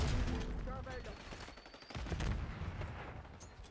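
Gunfire in the shooter Black Ops 6 comes in rapid, clustered bursts of loud shots with a short lull midway, under a bed of game noise and some voice.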